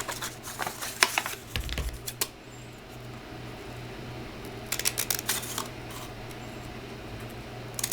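Scissors snip through kraft paper up close in two short bursts of crisp clicking cuts, separated by a quiet stretch of low background hum.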